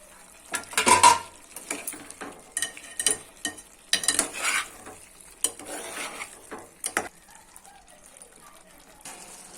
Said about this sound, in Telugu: గోలింది టమాటాలు వేస్తున్నాం.